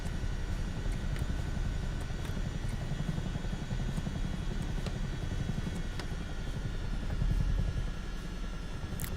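A Chinook helicopter in Microsoft Flight Simulator 2024 gives off a steady, dense rotor thrum and engine drone, continuous and close, with faint periodic ticks and no voices.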